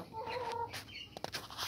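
Brahma chickens clucking close by in a farm yard, a few short soft clucks and chatter over a low background, with no talk.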